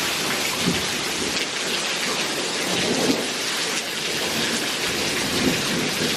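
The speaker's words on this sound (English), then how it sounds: "So we've got quite a winter storm going on." Heavy rain pours steadily during a winter storm at a home with a pool, a dense close hiss with low thunder rumbles rolling underneath, no voices.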